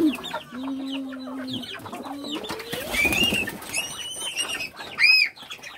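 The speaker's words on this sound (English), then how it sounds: "They have pigeon." Pigeons and chickens in a rural backyard coop, with repeated clucks, coos and chirps spread across the clip and a sharp louder call near the end, close by and with no talking.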